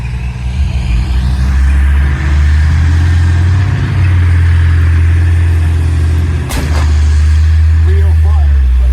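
A Leopard tank's engine roars steadily and loud through a charge, its deep low rumble with a brief sharp burst mid-clip and a slight revving swell near the end.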